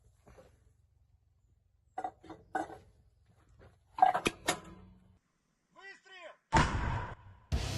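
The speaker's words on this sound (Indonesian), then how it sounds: "memperlihatkan aksi meriam anti-tank MT-12 Rapira menghancurkan target di garis depan arah Donetsk Selatan" An MT-12 Rapira anti-tank gun fires on the front line in the south Donetsk direction, giving a few sharp, abrupt blasts amid quieter stretches and other noises, with voices heard at times.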